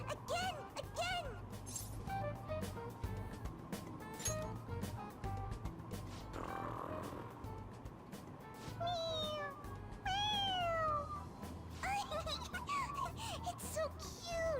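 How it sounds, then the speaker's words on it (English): A toy cat in Persona 5 Royal gives a string of high, bending meows when its head is pressed, several cries spread across the clip over a steady low background hum. "It meows when you press on its head"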